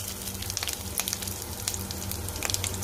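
Ginger frying in a pan of oil with mustard seeds, cumin and fenugreek for a Tamil fish curry, giving a steady soft sizzle with scattered crackling pops throughout, alone and fairly close.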